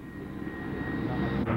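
A Navy airplane at the Moffett air show passes overhead as a steady, loud engine roar with a thin whine, swelling slightly toward the end.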